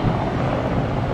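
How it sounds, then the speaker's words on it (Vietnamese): A Mi-8 helicopter takes off at Da Nang International Airport, heard as a steady, fairly loud low engine and rotor roar with wind-like buffeting, constant throughout the short stretch without speech. "Đó là một chiếc trực thăng vừa cất cánh ở sân bay quốc tế Đà Nẵng."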